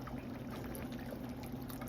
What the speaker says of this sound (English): I'm gonna pour a little bit more